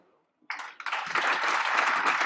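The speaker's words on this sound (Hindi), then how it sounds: "हम ताली बजाएं" Crowd applause at a political rally, rising suddenly from near silence into dense, sustained clapping that swells and holds loud to the end.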